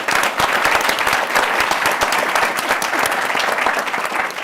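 An audience gives sustained applause for scholarship recipients at an education-assistance event: dense, loud crowd clapping that holds steady throughout, without any talk.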